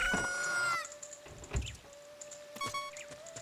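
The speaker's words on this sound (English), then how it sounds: "Hey, look, the chicken hatched." Chicken hatching in Zelda: Ocarina of Time, with short chirpy tonal clucks and game sound effects followed by a sustained electronic tone, fairly quiet and alone.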